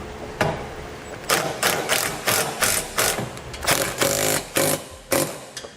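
Ratchet driving a 19mm socket to tighten trailer hitch bolts on a 2007 Infiniti G35, a steady run of close, loud clicking bursts repeating in quick rhythmic strokes with no voices.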